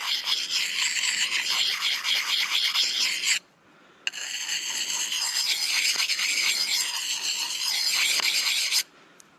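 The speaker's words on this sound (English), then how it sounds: "I'll do some honing on this side as well" A knife edge is honed steadily on a stone to correct a bevel problem at a camp in Michigan's Upper Peninsula: a continuous close rasping scrape with one short pause, then more long strokes before it stops.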